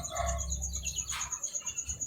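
Young quail chicks in a brooder squawk and chirp in short overlapping bursts while being handled, with soft rustling and a pulsing rhythm of close calls throughout.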